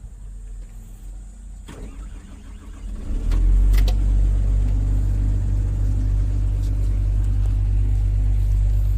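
A heavy machine engine cranks over and fires up about three seconds in, settling into a loud, steady low rumble that runs on continuously; the machine has an engine derate, shutdown and overheating problem.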